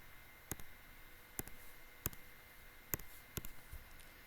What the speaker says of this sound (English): Now, type this into your calculator.